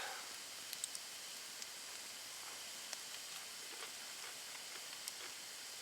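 Bacon sizzling over a campfire in the woods, a steady faint hiss with scattered small pops and crackles, no voices.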